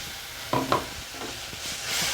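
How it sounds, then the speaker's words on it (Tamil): Ground tomato and ginger paste hits a hot pan for a white pattani kuruma, giving a couple of sharp splats and then a soft, steady sizzle with faint stirring, fairly quiet and with no talk. "இந்த தக்காளி அரைச்சிருக்கோம்ல போட்டுடலாம்"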